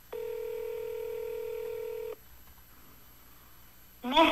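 A telephone call to an embassy is dialed: a steady tone sounds for about two seconds, then a quiet gap before an automated voice begins answering the line.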